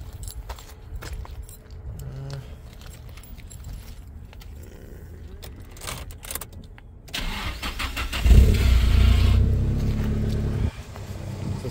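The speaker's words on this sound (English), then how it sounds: "Oh, the keys are in my pocket." Car keys jangle as they come out of a pocket beside a Nissan Silvia S15 Spec S, a series of light metallic rattles, followed by the engine cranking and starting up loudly.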